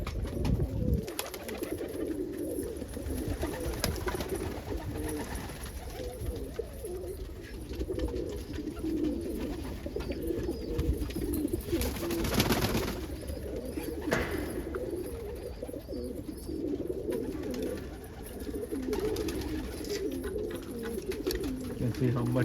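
Black Almond pigeon cooing inside a loft, a soft low murmuring coo running steadily throughout with faint rustling and loft noise around it.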